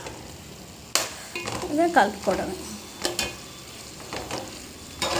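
Tomatoes cooking in a curry are mashed and stirred in a pan, giving irregular scraping and soft squelching knocks over a steady sizzle, with a brief spoken word partway through.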